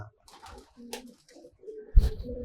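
Pigeons in a racing pigeon loft give a few soft, low coos over 2.5 seconds, fairly close, with a stronger burst near the end.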